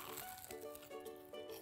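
A crispy fried apple turnover, filled with apple pieces and cinnamon, crunching and crackling faintly up close, in a few brief crisp bursts.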